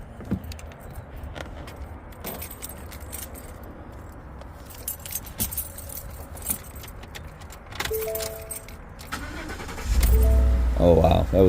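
Keys jangle before a Ford F150 engine with a newly installed starter cranks and fires quickly near the end, rising into a loud steady idle rumble.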